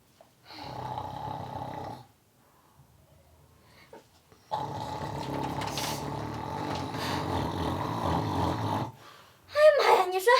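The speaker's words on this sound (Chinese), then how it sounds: "你说你这打呼噜放屁磨牙" A husband snores loudly while asleep, two long rasping breaths a few seconds apart, the second drawn-out and rumbling, close to the microphone and followed by a brief burst of a voice.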